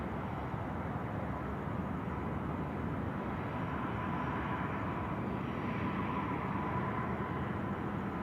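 An All Nippon Airways airliner landing on runway 34 left at Sydney Airport at night, a steady distant engine roar that stays faint and even throughout, with no voices.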